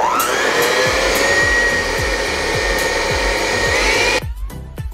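An electric mixer fitted with a whip attachment whirs steadily while whipping an ice cream mixture, with a rhythmic bumping of the beaters against the bowl; the motor cuts off near the end, leaving faint clatter.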